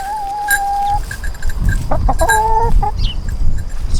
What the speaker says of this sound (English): Chickens are doing well.